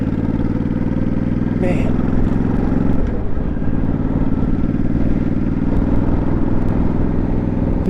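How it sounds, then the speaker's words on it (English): A low-slung motorcycle being ridden, its engine droning loud and steady with a brief clatter partway through, while someone speaks over it. "My bike's a bit low to smash speed bumps."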